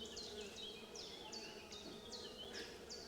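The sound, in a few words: honeybees buzzing at a Mini Plus hive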